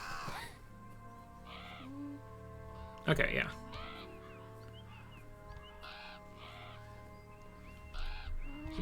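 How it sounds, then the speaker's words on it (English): Crows cawing in the video game Beyond Eyes, several repeated harsh caws in a rhythmic series over a quiet ambient backdrop, with a person briefly talking and a thump midway. "Hey, crows. Crows are cool."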